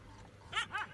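A dog fighting a male lion lets out two quick, sharp yelps in close succession over faint background noise.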